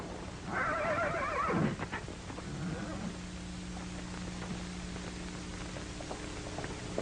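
A horse neighing on a night ride in an old Western film, one loud, close whinny early on, then quieter hoof clatter and background hiss.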